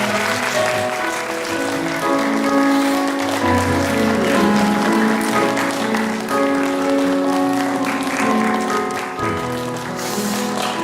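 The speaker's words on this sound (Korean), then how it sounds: "우리 장로님, 집사님께서 크게 박수 한번 쳐주세요." A church congregation claps during a Sunday worship service, a continuous wash of applause that lasts around eleven seconds over sustained instrumental music in the sanctuary.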